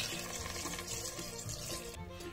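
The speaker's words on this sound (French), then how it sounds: "je vais verser du bouillon de bœuf à hauteur" Beef broth poured into a pot over seared beef roulades, a steady close splashing liquid stream running continuously for a couple of seconds, easing slightly at the end.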